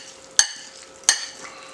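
Canned roast beef hash stirred in a bowl, two distinct scraping strokes about a second apart, close and clear with no voices.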